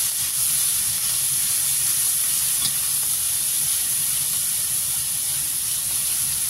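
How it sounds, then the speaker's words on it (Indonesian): Emping crackers fry in hot oil in a wok, giving a steady, loud sizzling hiss close by, continuous throughout with no talk. "Kalau wajannya panas tuh dikasih empingnya itu cepat matang gitu loh."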